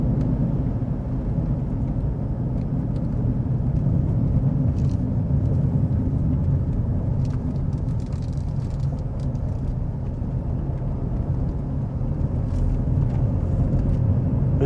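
A 2015 Ford Fusion drives over a gravel road, giving a steady, continuous low rumble of tyres and road noise from inside the car, with no talking.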